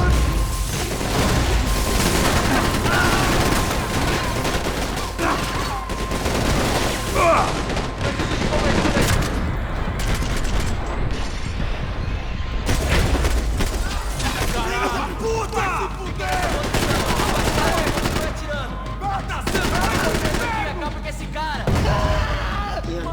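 Gunfire in the Max Payne 3 shooter game: dense, continuous volleys of rapid shots and bursts with booms mixed in, loud and sustained throughout, with a voice talking over the din at times.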